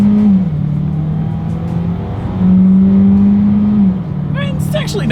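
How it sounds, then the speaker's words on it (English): A 2021 Hyundai Kona accelerating hard during an acceleration test, loud steady engine drone rising through gear shifts, with a brief dip and climb in pitch and a voice speaking near the end. "let's see how quickly we can get the new 2021 Hyundai Kona here up to speed"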